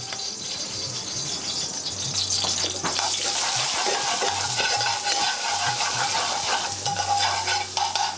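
Garlic hitting a spoonful of hot vegetable oil on a railway-style tawa, a loud, close crackling sizzle that swells after a couple of seconds and keeps bubbling with rattling stirs, no speech.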